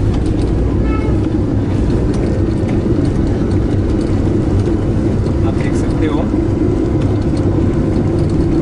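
A car driving in first gear gives off a loud, constant engine drone and road rumble that holds steady from start to finish.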